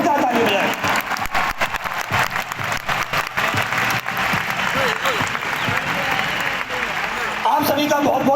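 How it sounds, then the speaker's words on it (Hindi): A stadium audience in Delhi gives loud, sustained applause that fills the whole clip, with dense clapping and crowd noise and a voice speaking over it at times. "पुराने लीडर्स नए गेस्टों के लिए जोरदार ताली बजाएं"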